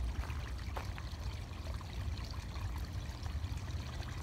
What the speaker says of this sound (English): The brooks babble